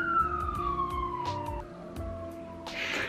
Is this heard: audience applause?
no